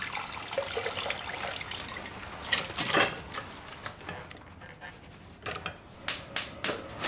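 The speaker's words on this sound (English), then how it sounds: "Let's take the meat and try and strain out these juices without causing major damage." Oniony pork loin roasting juices with bay leaves strained from the pan, a steady close liquid trickle and pour with clinks and scrapes of metal and utensils, several sharper knocks toward the end, no talking.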